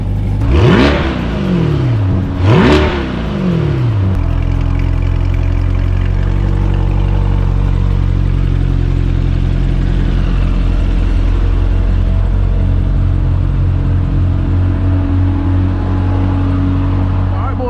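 A Chevrolet C8 Corvette engine revs hard twice in quick succession on a back road in manual mode, each pull sweeping up in pitch, then settles into a loud, steady rumble with wind noise that runs to the end.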